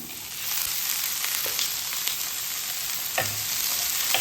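Finely chopped medium tomato sautéing in a pan, a steady hissing sizzle with occasional spoon scrapes and taps, no speech.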